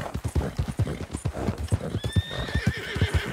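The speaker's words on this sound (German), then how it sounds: "Who's a good horse?" Horse hooves clip-clop in a steady, close walking rhythm in the Red Dead Redemption 2 video game, with a soft whinny-like tone near the end and no talk over it.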